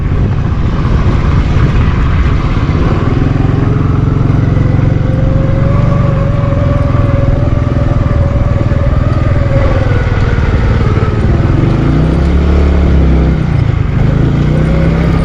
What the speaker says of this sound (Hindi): मिट्टी में हमारी मोटरसाइकिल फंस रही है,